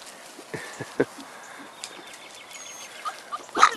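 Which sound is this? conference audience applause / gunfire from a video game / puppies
puppies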